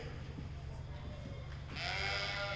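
A sheep bleats once, loud and drawn-out, in a show ring at the Williamson County 4-H sheep and goat show, over a steady low hum and room noise.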